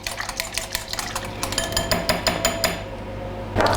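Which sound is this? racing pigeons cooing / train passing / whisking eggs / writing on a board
whisking eggs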